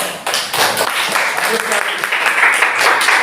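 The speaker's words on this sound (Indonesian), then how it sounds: "Ya, tepuk tangan." Classroom applause rises from a group of students after a math lesson, a dense burst of clapping lasting a few seconds with voices mixed in.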